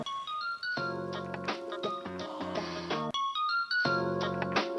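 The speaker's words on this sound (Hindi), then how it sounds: "ये तेरा में फोन करी बुढ़िया के मोबाइल में।" Mobile phone ringtone playing loudly, a repeating melodic tune in bursts with a short pause before it starts again; an old woman's phone ringing at night in a Maithili comedy sketch.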